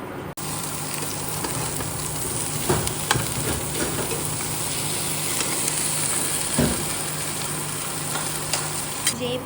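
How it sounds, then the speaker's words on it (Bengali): Shrimp paturi frying in oil in a frying pan over low heat gives a steady, close sizzle with occasional light stirring clatter and no voices. "তেল দিয়ে হালকা আঁচে ফ্রাই করা হবে"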